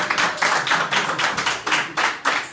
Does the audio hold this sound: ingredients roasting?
no